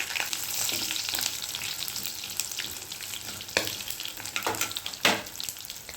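Mustard seeds, crushed garlic and dried red chillies sizzle and crackle in hot oil as a tempering fries in a pan. A steady hiss is broken by sharp pops and a few clanks of stirring.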